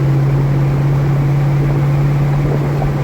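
A gas Ford F250 with a 6.2 V8 and a Flo Pro Twister exhaust cruises on the highway near 2,000 RPM with the windows down, a steady, loud, low exhaust hum and road roar without breaks.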